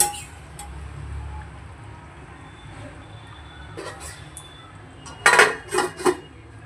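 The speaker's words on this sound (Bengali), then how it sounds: "এবার এটাকে ঢাকা দিয়ে দেবো একটুখানি ফোটার জন্য।" A lid is set onto a pan of fish curry simmering in spicy sauce, giving a few sharp metallic clinks close by that follow a long stretch of quiet background hum.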